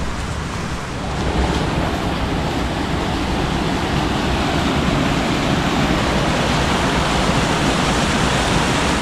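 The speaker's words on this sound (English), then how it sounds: "There's nice little cascades" Water cascading at Rainbow Falls in Jones Gap makes a loud, continuous, even rush of white noise that holds steady throughout.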